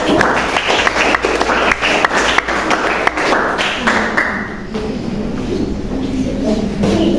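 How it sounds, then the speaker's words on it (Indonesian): A classroom of students claps for a group that has just presented during a school lesson, a dense burst of applause lasting several seconds before fading into quieter room noise. "kasih tepuk tangan untuk kelompok satu"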